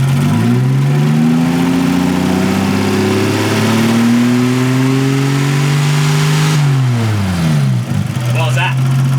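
A Nissan RB30E+T turbocharged engine revs up to about 3500 rpm, a loud, close, sustained drone that climbs and holds, then drops back toward idle near the end, with voices talking over it.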